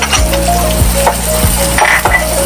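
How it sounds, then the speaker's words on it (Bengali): Chopped onion and minced garlic fry in a pan of oil, a loud, steady close sizzle with light stirring clinks running throughout. "একটু বেঁধে নিব পেঁয়াজটা"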